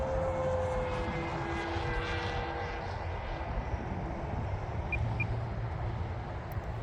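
An FMS 1100mm Voodoo RC airplane on 6S power drones steadily overhead in flight, its motor and propeller making a continuous buzzing roar with a brief odd tonal whine early on, loud and without talk.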